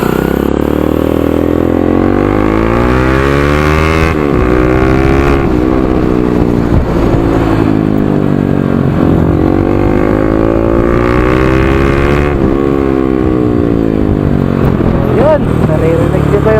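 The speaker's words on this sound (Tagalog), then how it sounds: "Naririnig niyo ba yung bago kong tambucho?" A motorcycle fitted with a new open exhaust and no silencer idles and revs loudly up close, with rising and falling engine pitch throughout and a voice speaking over it.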